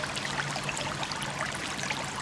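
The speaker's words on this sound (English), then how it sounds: "we've still got the bubbling rock where the pigeon was, creating a little bit of noise" Water bubbles faintly over a rock water feature in a garden, a soft, steady, continuous trickle with no voices.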